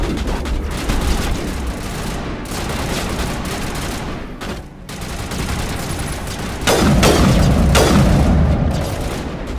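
Repeated gunfire and heavy booming blasts fill a space adventure video game firefight, sniper rifle shots among them, with dense layered bursts and a louder surge near the end, no talking.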